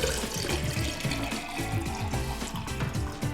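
Water pouring into a container during a kids' science demonstration with food coloring and bleach, a close continuous gurgling fill with no one speaking.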